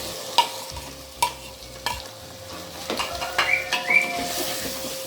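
Tomatoes go into frying keema masala with potatoes, bringing sharp utensil knocks against the pan at regular intervals, then busier stirring and scraping over a continuous sizzle; no one speaks.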